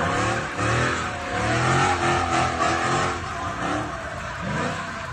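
A car at a street takeover revving hard with squealing tires and skidding, engine note rising and falling loudly and close over several seconds before crashing into a police car; no voices are heard.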